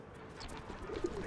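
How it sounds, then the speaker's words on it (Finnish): A pigeon coos in a PS2 video game, a few soft low calls near the end over a steady game background hum. "Varokaa pulu."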